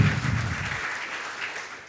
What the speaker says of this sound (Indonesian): Berikan dengan iman tepuk tangan meriah buat Tuhan kita